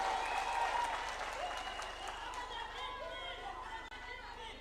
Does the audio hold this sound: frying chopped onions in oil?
no